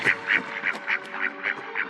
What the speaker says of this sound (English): The swan made a loud cry.